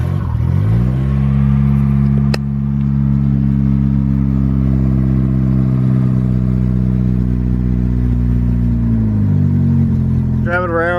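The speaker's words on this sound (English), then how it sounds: "Yeah, cold start." A Honda Civic D16 engine idles steadily just after a cold start, a loud, close, even drone with a brief click near the start and a rising rev at the end.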